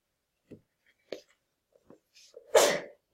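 A single sneeze near the end, preceded by a few faint small clicks and breaths in an otherwise quiet room.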